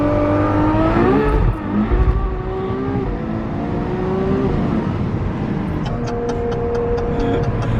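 Ferrari 812 Superfast engine revving and accelerating hard, a loud rising roar that climbs and then settles into a steady drone, with no talking.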